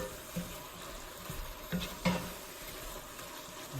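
Chili powder and spices cooking in a cast iron pan, a soft low sizzle with a few light scrapes and knocks of stirring.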